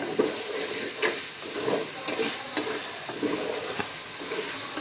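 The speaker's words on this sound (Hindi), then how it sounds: "झींगे अच्छे से मसाले में पक चुके हैं" Prawns fry in spice masala for a prawn pulao, a steady loud sizzle with soft scraping stirs repeating every second or so, close up and without talk.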